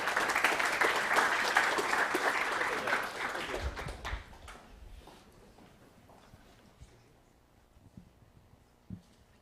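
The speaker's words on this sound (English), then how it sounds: "So through round of applause, please help me welcome DeepSafe from the Product Management course." Applause from an audience at a student showcase event welcoming a presenting team, loud and dense at first, then thinning into scattered claps and footsteps before fading into quiet room noise.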